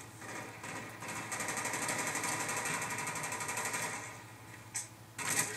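Rapid automatic Enfield rifle fire in the video game Black Ops, heard as a fast rattling string of shots that runs through most of the moment, followed by a short break and another burst, with no talk.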